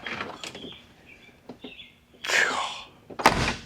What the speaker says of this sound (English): open and shut the door